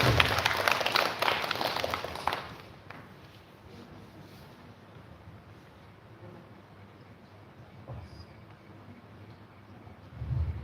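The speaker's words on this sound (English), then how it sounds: "With a round of applause, please welcome Gloria." An audience at a space camp's final-day event claps loudly for about two seconds to welcome a speaker, then fades into quiet room tone, with a brief rustle later.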